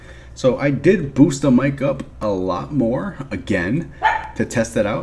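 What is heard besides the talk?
dog barking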